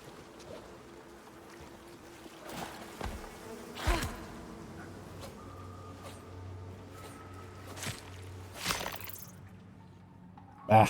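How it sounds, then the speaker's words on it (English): Bees buzz faintly inside a medium-sized cave in a video game, a thin, quiet drone running under sparse ambience, broken by several sharp knocks and thumps and a louder burst at the end. "No, but there are bees. I hear it."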